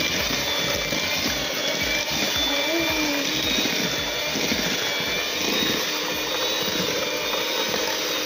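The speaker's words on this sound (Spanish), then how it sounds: "vamos a batir bien, bien batida esta preparación" Chocolate and vanilla zebra cake batter is beaten with a continuous whirring, close and loud, with a voice briefly audible underneath.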